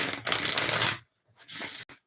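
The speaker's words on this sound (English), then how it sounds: "So I'm going to shuffle cards while we let a couple people get on here." A deck of tarot cards is riffle-shuffled close by in two crisp, papery bursts separated by a brief silence, with no talking.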